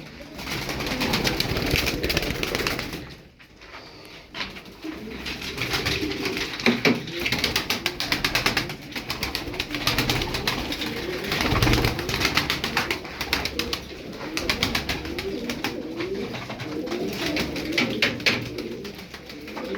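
Tumbler pigeons coo steadily in a loft, a dense, continuous flock murmur with occasional flutters and rustles.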